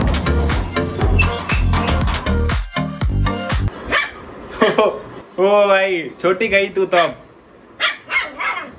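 A dog barks in sharp bursts up close, mixed with loud background sound and someone talking over it.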